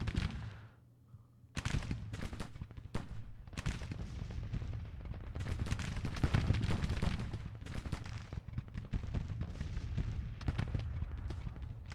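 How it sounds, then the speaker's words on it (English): 12-pound howitzers and rifle volleys firing in the Civil War strategy game Grand Tactician, a dense run of sharp overlapping booms and cracks at varying distance, some close and loud, others distant, with no pauses. "The 12-pound howitzers are in some sort of range and firing after a fashion."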